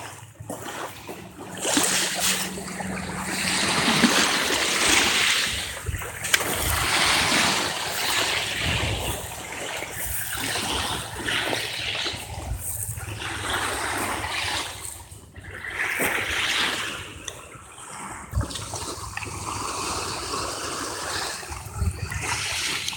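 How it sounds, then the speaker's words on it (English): Gentle surf washing in continuously along a calm beach at Bula, with soft broadband wash and wind rushing steadily throughout, occasional louder swells and splashes near the water's edge. "You got like really light waves."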